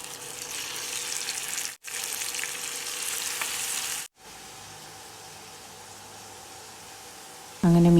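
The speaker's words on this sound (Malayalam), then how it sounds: "അതിന് ശേഷം പിന്നെ മീനൂടി ഒന്ന് വറുത്തെടുത്തു." Masala-coated fish frying in a pan crackles with a bright, steady sizzle, cut by two brief silences, then settling into a quieter, softer hiss before a short tonal sound at the very end.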